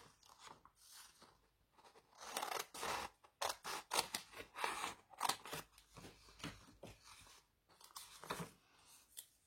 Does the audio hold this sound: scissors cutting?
yes